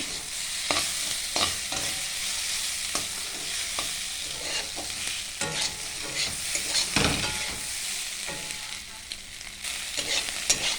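Spice masala for an egg tadka sizzles and fries in a pan while being stirred, with repeated close scrapes and knocks of the spatula over a steady hiss of frying.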